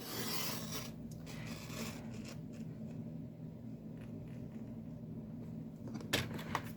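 Card stock being cut down to a fold line makes faint, close scraping and rasping sounds, a quiet continuous rub with a few sharper strokes, and no voices.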